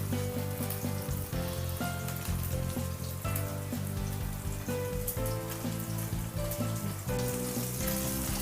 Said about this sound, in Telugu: సో మీడియం ఫ్లేమ్లో పెట్టుకొని ఫ్రై చేసేసుకుంటాం